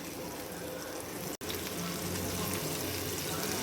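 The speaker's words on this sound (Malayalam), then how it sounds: "ചെറിയ ഫ്ലെയിമിലാണ് ഞാനിട്ട് മീൻ വറക്കുന്നത്." Fish fries in coconut oil in a pan over a low flame, giving a continuous dense sizzle with a single brief dropout partway through.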